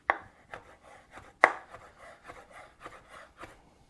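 A knife chops through a fresh homemade pasta sheet on a board, slicing it lengthwise into tagliatelle with about nine or ten close, crisp cuts at a steady rhythm, one stroke noticeably harder than the rest.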